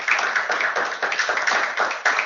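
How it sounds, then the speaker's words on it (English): Audience applause at a Central Public Works Department annual day celebration, a dense, steady round of clapping from many hands, fairly loud and continuous throughout. "a good round of applause."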